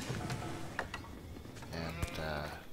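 Sheep bleating inside Age of Empires 4, a few short bleats over busy game sounds with mechanical clicks and a quiet low hum, fairly faint and mixed.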